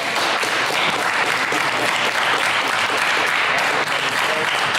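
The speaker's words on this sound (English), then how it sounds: "Everybody give our speakers a round of applause." An audience gives a steady round of applause for the speakers at a panel conversation, dense continuous clapping filling the room without pause.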